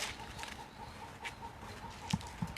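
Chickens cluck softly on a farm, a few faint, scattered calls over a low steady background hum, fairly distant and quiet.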